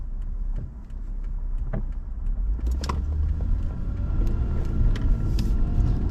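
Steady traffic rumble at a busy intersection, cars idling and passing nearby with a low engine drone that swells slightly, occasional faint clicks and rattles, no talk.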